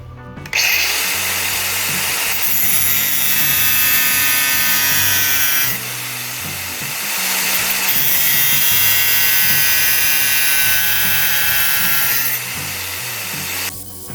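A power tool cuts a hole for an RV generator exhaust, grinding loudly and steadily in close, continuous passes with two short easing-off moments between them.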